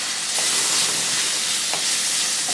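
Garlic and onion frying with salt and turmeric in a pan, a steady close sizzle and hiss with a few faint stirring clicks, no voices.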